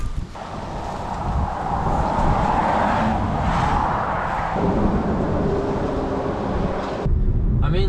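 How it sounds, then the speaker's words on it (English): A car cruises along an empty open road on a Perth-to-Esperance road trip. Steady engine and road rumble mixes with wind buffeting, sustained at an even level before dropping away abruptly near the end. "I'm enjoying driving this road so much"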